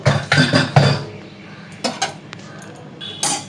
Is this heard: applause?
no